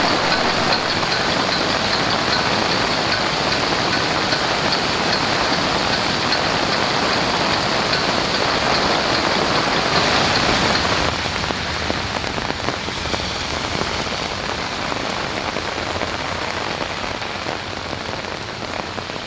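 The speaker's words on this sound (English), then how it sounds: "the strange sight and sound of a musical lamppost desperately fighting the torrent" Floodwater torrent rushing against a lamppost during a heavy Brisbane flood, a loud, steady, broadband rushing roar that stays constant throughout, slightly easing near the end.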